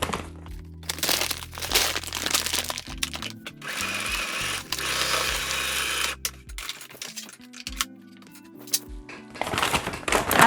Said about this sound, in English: at the beginning and the end of this line of stitching, always back stitch a few stitches just to keep it in place